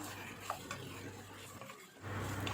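Chicken pieces being sautéed and stirred in a pan for a ghee roast, a soft steady sizzle with faint scraping stirs, quiet and continuous throughout.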